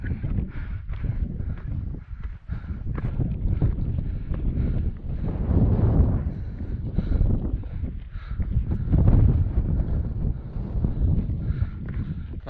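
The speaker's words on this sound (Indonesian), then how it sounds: "langsung disambut angin kencang." Strong wind on the twin summit of Mount Arjuno-Welirang near Tretes, Pasuruan, roaring and buffeting against the microphone in loud irregular gusts that surge and ease throughout, with no clear voices.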